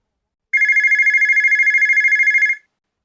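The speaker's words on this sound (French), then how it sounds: "À ce moment-là, la sonnerie d'un téléphone retentit." A telephone bell rings continuously for about two seconds, a steady electronic trill pulsing rapidly at an even rhythm, loud and close, then cuts off into silence.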